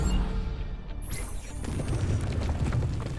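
A deep, rumbling crash as the ground collapses in the strategy video game Into The Breach, a dense low roar with crackling debris that runs continuously and fairly loud with no voices.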